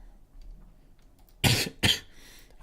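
Two sharp, harsh coughs in quick succession from a person recovering from a post-COVID lung illness, loud and close against a quiet background.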